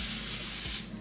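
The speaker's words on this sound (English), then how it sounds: "So on the 3rd layer, I do spray the lace spray." Lace spray hissing steadily onto the HD lace of a 13x4 lace frontal wig during an install, one continuous close, bright spray burst that tails off near the end, with no talking.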